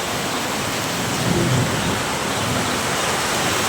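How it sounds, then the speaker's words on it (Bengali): Heavy rain pours outside a balcony, a loud, dense, unbroken hiss of falling water with no pauses. "এখন বৃষ্টি নামছে, অনেক বৃষ্টি।"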